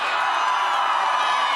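A large crowd at a live political campaign rally near Ann Arbor cheers and shouts in a dense, steady roar with no breaks, loud and close.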